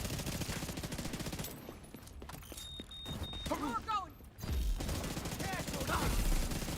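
Pistol fire and combat clatter from The Division shooter game, rapid snapping shots and mechanical rattles in a dense burst that drops away briefly, then resumes, with a voice faintly underneath.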